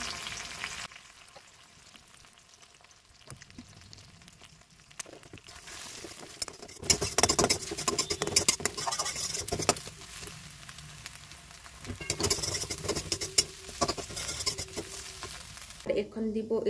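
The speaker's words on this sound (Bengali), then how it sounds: "এই দেখো ডিমের পোচ হয়ে গেছে" Eggs fry in a hot pan with oil, crackling sizzle swelling in bursts between quieter stretches, with a voice speaking at times.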